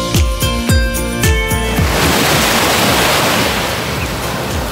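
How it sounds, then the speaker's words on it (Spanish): Ocean waves washing onto a beach, a steady broad rushing surf close by, preceded by a few seconds of rhythmic music that fades out. "Miren las playas más espectaculares."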